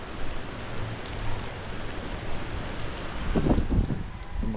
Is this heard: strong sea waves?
yes